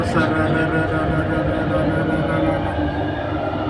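An underground train rumbles steadily along, a dense, continuous roar of wheels and carriage noise that stays loud and unbroken throughout.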